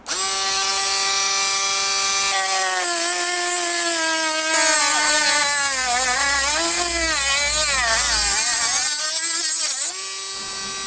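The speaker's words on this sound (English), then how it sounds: "Now we'll try cutting a piece of wood." A high-pitched Aldi rotary tool whines loudly and close, its pitch dipping and wavering as it bites into wood, then rising again as the load eases.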